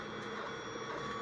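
A 3D printer hums and whirs steadily while its filament is reloaded, a faint continuous mechanical drone with no talk.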